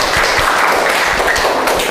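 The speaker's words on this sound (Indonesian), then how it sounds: "Tepuk tangan untuk kelompok 1" A classroom group of students applauding a presenting team, a steady, loud wash of many hands clapping together for the whole two seconds with no talk over it.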